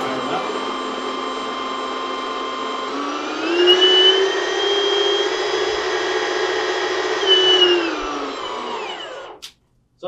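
A Milwaukee M18 FUEL high speed chain drain cleaner runs at full battery power with a steady, loud whirring whine. It spins up, holds speed with a couple of brief surges, then winds down and stops near the end.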